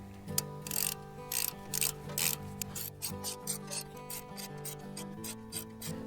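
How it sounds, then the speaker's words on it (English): A ratchet tightens the brake hose brackets on a 2011 Ford F150, sounding as repeated close clicking bursts of ratcheting in an uneven rhythm with brief pauses between strokes. "We'll go ahead and tighten up my brackets."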